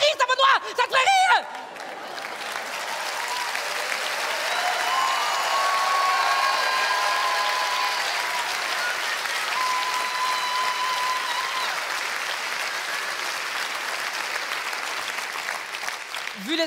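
Sustained applause from a comedy show audience, a dense steady wash of clapping that swells and holds for most of the stretch, with some crowd murmur and a brief voice at the very start.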